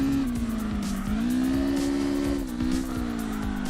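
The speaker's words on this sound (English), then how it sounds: "Oh, that was a little bit long of a handbrake drag." Stock Corolla drifting in the racing game CarX Drift Racing Online, with a sustained engine drone rising and falling in pitch and ticking tire chatter through a long handbrake slide, loud and continuous.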